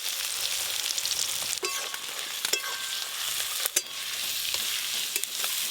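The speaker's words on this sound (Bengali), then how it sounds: "তেল ভালো করে গরম হয়ে গেছে, পেঁয়াজ কুচি দিয়ে দেব।" Chopped onion hits hot oil in a pan for a crab or prawn curry, giving a loud, continuous sizzle broken by a few sharp clicks and scrapes of stirring.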